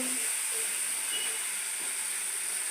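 Onions hitting a hot pan at home set off a steady, faint broadband hiss that carries evenly throughout with no talking over it.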